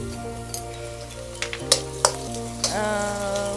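Onion frying in hot oil with cumin and mustard seeds for a wild-vegetable bhaji. A short, close sizzle is punctuated by a few sharp stirring clinks, with music playing behind.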